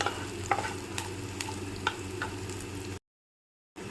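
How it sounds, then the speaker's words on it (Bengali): Raw onion and chopped chili fry in a wok with a low, steady sizzle, punctuated by several sharp scrapes and taps of a spatula stirring. It cuts to silence near the end, then resumes briefly. "এরপর বেশ কিছুক্ষণ নাড়াচাড়া করব যতক্ষণ না পেঁয়াজটা লাল লাল হয়ে ভাজা হচ্ছে"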